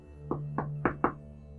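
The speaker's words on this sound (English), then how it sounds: "I heard a knock at the door" Four distinct knocks on a door at night, spaced in an uneven rhythm, sounding close and fairly loud over a low steady hum, with no talking.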